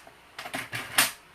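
Card being cut during a triple Z-fold card make, heard as a few short bursts of crisp, close cutting or slicing noise, the last one loudest, with no talking.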